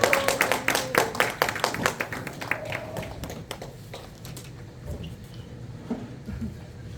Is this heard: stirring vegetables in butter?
no